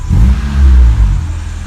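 The engine of a Honda Civic EG, running slightly rich, revs up in a short, loud, close burst with a deep swelling tone.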